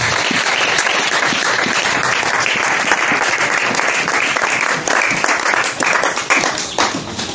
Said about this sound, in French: Acclamez Jésus avant les annonces.